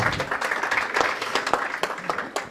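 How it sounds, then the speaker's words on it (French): A crowd at a finals announcement applauds a finalist, loud, dense clapping with sharp individual claps standing out and holding steady throughout, with no speech over it. "Allez, on l'applaudit."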